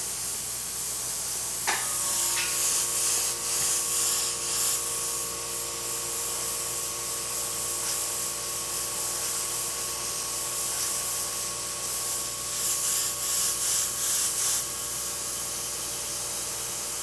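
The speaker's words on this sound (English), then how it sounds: "Pour the color in the brush and spray it onto" An airbrush sprays paint onto a small card in a steady, sustained hiss that runs nearly the whole time after a brief click near the start, with slight variations as the spray pulses.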